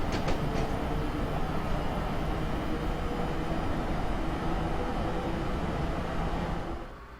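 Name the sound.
ALP-45DP train accelerating in video game Train Simulator 2016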